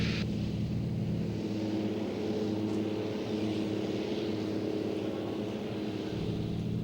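Seaplane engine roaring steadily at full takeoff power as the floatplane lifts off the water, a continuous loud drone with low rumble and slight variation in pitch.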